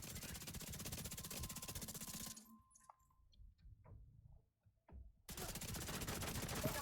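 Rapid automatic gunfire in The Division 2 video game, a fast continuous burst that stops for a few seconds with small clinks and scattered shots, then resumes just as dense, with no talking.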